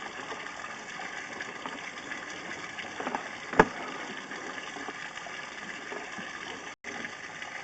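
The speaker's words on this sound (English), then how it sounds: "I have water running down the main here." Water runs down a sewer main during a camera inspection, a faint steady gushing flow echoing in the pipe with one brief knock midway.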